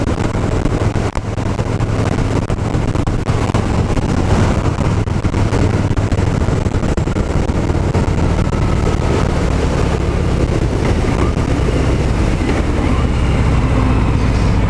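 A 2018 Harley-Davidson Fat Boy 107 with its Milwaukee-Eight engine cruises at freeway speed. A steady, loud engine drone is buried in constant heavy wind rush, unbroken for the whole stretch, with no talking.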